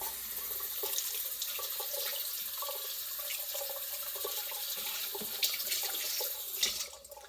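Steady hiss of a running kitchen tap as a cutting board is rinsed underneath it, with water splashing and shifting over the board for several seconds before the flow tapers off.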